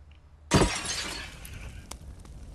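Glass shatters all at once in a video game bathroom: a sudden loud crash of breaking panes, then a trail of tinkling shards and debris settling.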